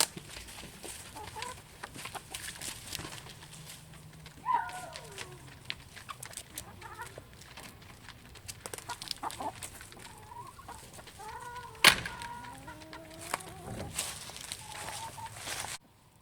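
Backyard hens clucking and murmuring near a chicken waterer, with soft repeated clucks and a few louder squawks scattered across a quiet background.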